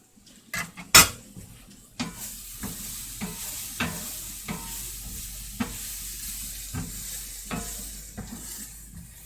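An omelette and fried rice cook in a pan with a quiet, low sizzle, while a utensil stirs and scrapes against the metal in scattered knocks and clinks throughout.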